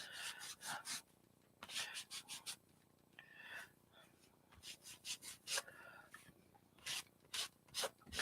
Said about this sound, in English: I'm just lightly rubbing out so you kind of see the underneath.